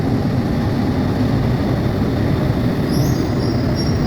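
An LRT train runs on its rails with a loud, steady rumble and roar throughout, and faint high squeals from the wheels near the end.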